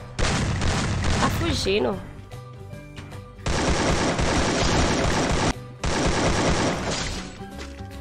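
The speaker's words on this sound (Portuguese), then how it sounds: "Tem gente me atirando!" Rapid automatic gunfire from the Free Fire battle royale game, loud bursts in two long sustained volleys with a brief pause between, while someone speaks excitedly over the shooting.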